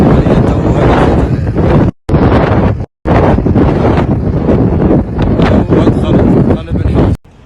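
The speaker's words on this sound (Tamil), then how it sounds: "அந்த லிபியாவில் தோன்றிய தூசி காற்று சால்மி பகுதி வரைக்கும் நேற்றைய தினமே நெருங்கிடுச்சு" Dust storm wind rolling in from Libya toward Salmi, loud gusty roaring and buffeting against the microphone almost throughout, with two abrupt brief cutouts.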